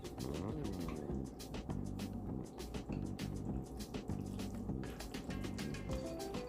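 Cheese sauce is stirred into cooked pasta for lobster mac and cheese, giving wet, squelching, sticky smacks in a busy, uneven rhythm close by, with no talking.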